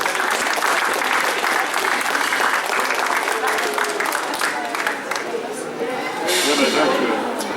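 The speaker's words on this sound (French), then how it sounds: "Les applaudissements pour monsieur Jacques Jeannot" Sustained applause from an audience at a town back-to-school forum in Les Mureaux, dense and loud clapping that carries on throughout with faint crowd voices mixed in.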